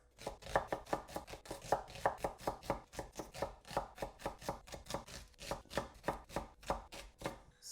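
A knife chops onions finely on a board in a fast, even rhythm of crisp, close knocks that runs the whole stretch with no talking, setting up a paneer kathi roll filling.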